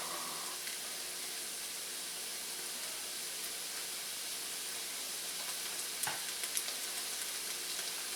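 Onion and red pepper frying in a pan for paella, a steady soft sizzle and hiss running throughout with a few brief louder crackles near the end, no voices.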